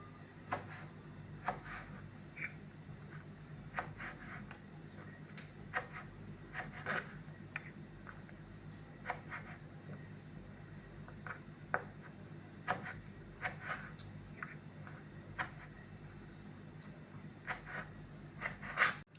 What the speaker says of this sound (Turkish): Kayısılarımı ve incirimi küp küp doğrayacağım.